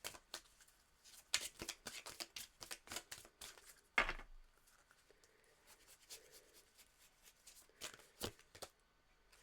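Tarot cards are shuffled and drawn by hand, giving irregular bursts of crisp riffling and snapping with quieter pauses between, close and soft with no talking.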